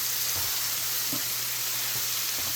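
Shrimp sizzle steadily in a pan with browned garlic, a loud close hiss of frying with no one talking.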